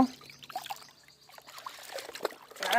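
Water trickles and splashes as a pet is bathed at home, a soft uneven pouring close by that swells louder toward the end, with no talking.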